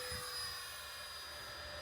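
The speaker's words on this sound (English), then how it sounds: "I'm just going to advance the throttle and not touch anything. And the airplane's going to take off all by itself." E-flite Habu STS 70mm electric ducted-fan RC jet at throttle-up for takeoff, a faint, steady high-pitched fan whine with a low rumble underneath, heard alone.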